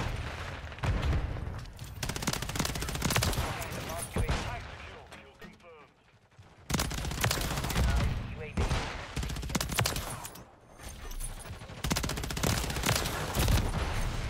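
Rapid, dense bursts of automatic gunfire from the Modern Warfare 3 video game, loud and nearly continuous with brief lulls, while a player talks over the action.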